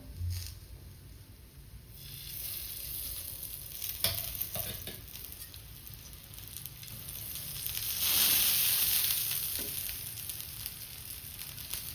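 Thalipeeth, a jowar flatbread, frying in ghee on a pan gives a steady, soft sizzle that swells briefly toward the end, close and unbroken, with no voices.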